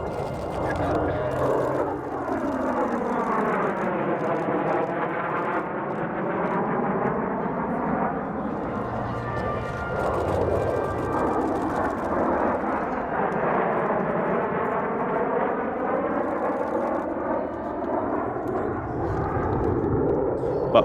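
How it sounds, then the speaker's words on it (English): An F-35 and an F-86 Sabre fly a heritage flight at a military air show, a loud continuous jet roar with sweeping pitch shifts as they pass, while an announcer talks underneath. "The F-35 now joins up with an F-86 Sabre for a heritage flight"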